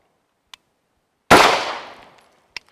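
A single sharp handgun shot cracks loudly in a draw-to-first-shot drill on a range, followed by a decaying ring, with faint clicks just before and after.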